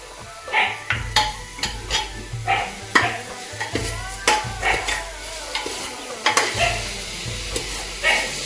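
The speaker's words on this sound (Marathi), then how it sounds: "आता आपण यात साखर घालूया" Grated carrot halwa is stirred in ghee after sugar is added, a rhythmic series of close scraping strokes against the pan over a soft sizzle, repeating roughly every half second.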